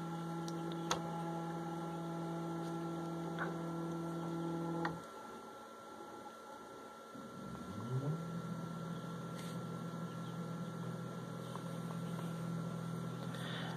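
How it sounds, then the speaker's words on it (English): A GRBL-controlled CNC machine homes back to its limit switches: a steady motor hum and drone stops abruptly, then rises again in a sweeping tone and settles into a constant hum, with faint clicks. "So what I'm going to do is just home the machine again."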